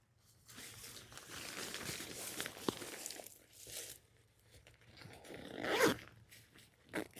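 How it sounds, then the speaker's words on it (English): The zipper on a Big Agnes C-Bar 2-person backpacking tent is pulled in several quick rasping runs, with fabric rustling between them and one longer, louder zip near the end. "Good quality zippers."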